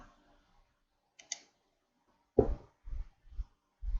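Mouse clicks on a software dialog's Next button, a faint tick near 1.3 s followed by four sharper, louder clicks in a loose irregular rhythm, close and alone with no talk.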